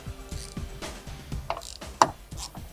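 A 10mm bolt is worked loose with a ratchet from behind a rubber flap on a 2017–2019 Ford F250 Super Duty headlight, giving repeated close ratcheting clicks in a steady rhythm with one sharper knock.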